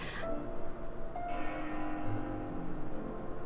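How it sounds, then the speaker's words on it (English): A bell rings within a Xenoblade Chronicles 2 game scene, its clear sustained tones repeating over a steady ambient background with no talking. "That bell sound must be coming from somewhere."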